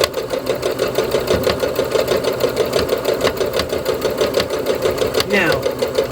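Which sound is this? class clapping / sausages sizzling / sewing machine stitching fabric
sewing machine stitching fabric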